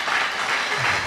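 Brief burst of audience applause inside a church during a Bible teaching, steady and dense clapping filling the whole moment with no speech over it.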